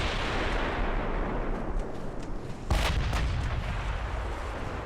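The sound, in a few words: battleship broadside gunfire in video game Ultimate Admiral Dreadnoughts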